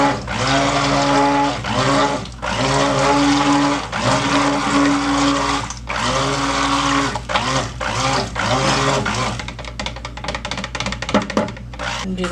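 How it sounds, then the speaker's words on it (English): A stick blender whirs loudly in steady bursts, its motor pitch shifting as it churns thick soap batter, with short pauses and clicks between runs. "I'm going to give this a quick stick blend."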